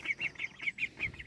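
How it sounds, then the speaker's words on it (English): Young farm ducks outdoors quack and chatter in a quick run of about six short calls, close and moderately loud, with no one speaking. "So they're the new ducks."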